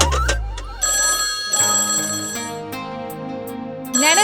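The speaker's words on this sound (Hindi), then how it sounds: "नैना, किसका फोन है?" A phone ringtone chimes in a repeating electronic melody, loud and close, with no voices over it.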